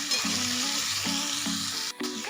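Onion and tomato sautéing in a pan for methi thecha, a steady close sizzle of frying with soft stirring scrapes and brief tonal rubs as the spatula moves, no voices over it.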